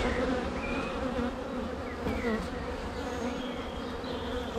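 Honeybees buzz around an open beehive outdoors in warm weather, a steady close drone with occasional individual bees passing near, no voices.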